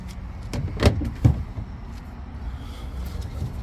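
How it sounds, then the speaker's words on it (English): A storage compartment slides out of a Honda Ridgeline pickup with two dull plastic knocks and a low rumbling slide close by, followed by quiet background, with no talking. "now you can just slide the compartment out"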